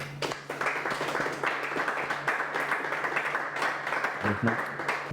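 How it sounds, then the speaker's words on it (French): A group applauds the winning team at a filmmaking competition, a steady patter of clapping from a modest crowd, with brief murmurs of voices mixed in. "on va applaudir pour eux, nous tous"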